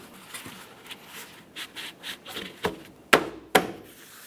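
Plastic front bumper bracket on a 2012-2015 Honda Civic being pushed into place, soft rubbing and scraping followed by two sharp snapping clicks near the end, close up.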